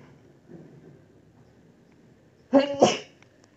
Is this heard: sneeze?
yes